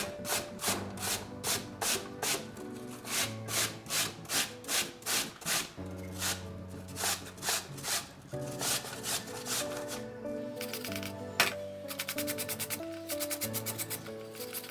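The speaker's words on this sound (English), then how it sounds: "Two of long apple grains, you must grate downwards in one move." Peeled apples are grated downward in single strokes, producing a run of rhythmic rasping scrapes, close and clear, with brief pauses between bursts.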